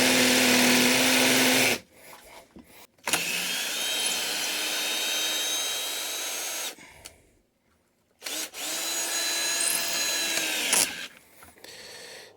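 Power drill driving screws while installing a door in an off-grid cabin: long loud whirring bursts of the drill into wood, cut by short pauses, close-up with no talking.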